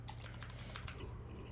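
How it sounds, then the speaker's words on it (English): Fingers type on a computer keyboard in quick, light clicks, a short close run of keystrokes over a quiet background with no voice. "And now open a new tab and type here"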